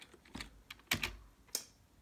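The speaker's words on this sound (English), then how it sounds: "So we're going to type in import," Scattered keystrokes on a computer keyboard while code is typed for a Minecraft Python module, a few soft, irregular clicks close by in a quiet room.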